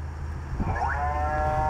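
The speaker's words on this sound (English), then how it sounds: "So here's our new Jersey cow" A Jersey cow in a Harvest Moon farming video game gives a single drawn-out, rising moo over a low steady background hum.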